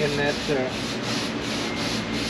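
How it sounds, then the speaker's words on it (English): Steady rhythmic sanding strokes work a rounded metal edge on a car's bodywork before priming, continuous and close, with a faint tonal hum at the start. "After a little bit of final sanding, we put some primer on that spot"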